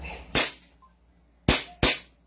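An airsoft Hi-Capa pistol, a 2011 TREX 5.1, fires three sharp cracking shots: one, a pause, then two close together, loud and near with no talk over them.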